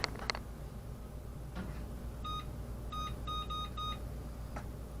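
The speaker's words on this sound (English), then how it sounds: "we're just gonna set the timer for 55 then" A series of short, high electronic beeps from a kitchen timer, some single and some in quick pairs, over a steady low background hum.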